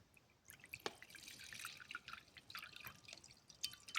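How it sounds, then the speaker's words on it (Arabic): Water poured into a small dish inside a manual egg incubator, giving soft trickling and dripping splashes that start after a short pause and continue unevenly, faint and close, with no voices. "كتجيب الطاسه ديال الماء اللي كتجيب انت كتحطها هنايا، كدير فيها الماء"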